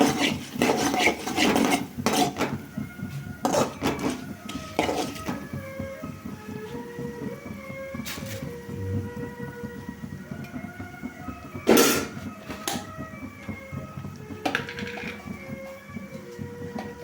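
Ingredients sizzling and being stirred in a pan while cooking coconut rice with green chillies, a steady scraping, rasping texture with intermittent clatter of a utensil against the pan, close and moderately loud.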